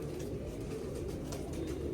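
A pigeon coos softly and steadily in a close, quiet setting, its low murmuring calls running continuously with no voices present.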